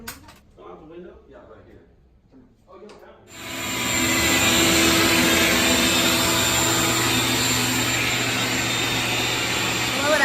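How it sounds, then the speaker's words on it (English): A vacuum hooked to a dryer vent roars on loudly, blowing lint out to the building's exterior. It follows a few seconds of quiet talk and then holds a steady, strong whoosh. "He has this vacuum that he's hooked up to get it out to the exterior of the building"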